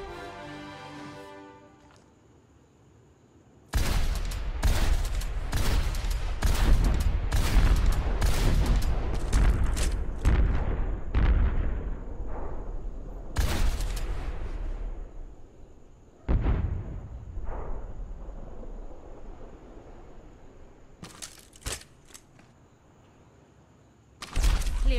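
Rocket barrage ultimate firing in the video game Overwatch, a dense string of loud, rapid blasts and booms rolling on for several seconds, then a second shorter volley and a final burst.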